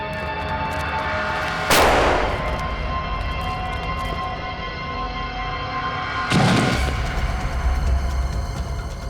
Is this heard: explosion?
yes